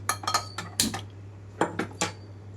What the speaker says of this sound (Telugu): ఇక్కడైతే స్టవ్ ఆన్ చేసి పాన్ పెట్టుకుంటున్నాను